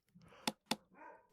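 A dog gives two quick, sharp barks close together in a quiet room, with soft rustling and low murmuring sounds around them.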